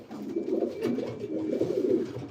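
Pigeons cooing inside a racing pigeon loft, low soft throaty calls overlapping continuously and close by, without speech.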